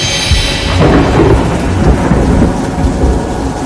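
Loud, close thunderstorm with a heavy rumble of thunder over steady pouring rain, continuous throughout.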